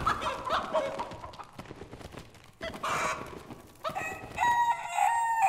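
Chickens cluck and a rooster crows in the dungeon game Dark and Darker, clear bursts of fowl calls rising over a busy game soundscape.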